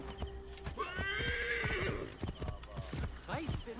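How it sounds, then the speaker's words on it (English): A horse in Assassin's Creed Origins gives a long whinny over rhythmic clip-clopping hooves, the neigh rising and falling near the start, hoofbeats continuing steadily, with a voice talking over parts. "Horse"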